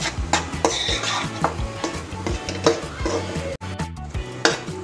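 Flour (maida) being stirred as it roasts in a pan for halwa, a steady scraping and clinking of a spoon against the pan with a soft sizzle, close and continuous with a brief pause near the end.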